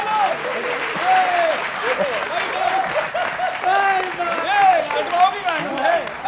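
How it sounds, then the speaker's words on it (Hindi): An audience at a political poetry event breaks into loud, sustained applause, a dense crowd of clapping with voices and cheers mixed in throughout. "तालियां दो।"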